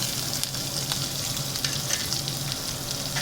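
Green chilies and onions frying in a pan for masala dal, a steady bright sizzle with occasional stirring clicks, close and continuous.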